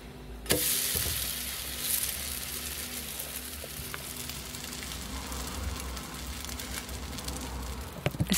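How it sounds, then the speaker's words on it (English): Vegan banana pancake sizzling in a frying pan, a steady soft crackle and hiss that stays faint and even throughout, with a few small clinks. "Es brutzelt."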